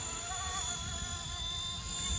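An RC Era MD500 scale model helicopter flies in windy conditions with a steady, fairly faint high-pitched whine of rotor and motor, its tones wavering slightly over a low wind rumble.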